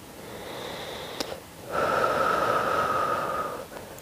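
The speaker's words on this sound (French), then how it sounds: "Inspire, expire." Deep, audible breaths in and out during a Pilates exercise, a longer airy inhale-exhale cycle close to the microphone with a brief pause between, no talking.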